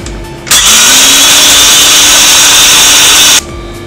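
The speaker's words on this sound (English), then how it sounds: "I'll put them in my grinder and I'll grind them." Electric kitchen grinder milling dried yam into flour, a loud steady whine that starts abruptly, runs for about three seconds and cuts off.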